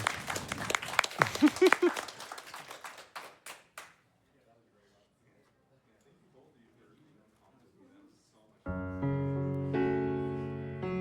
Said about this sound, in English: let's give one more round of applause for Shentok and that fantastic Étoile Princesse run